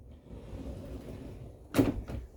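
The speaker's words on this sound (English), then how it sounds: "Pocket door slides over," Bathroom pocket door in a 2021 Grand Design Imagine 3110BH travel trailer, sliding along its track with a low rumble, then one sharp bump as it stops, close by.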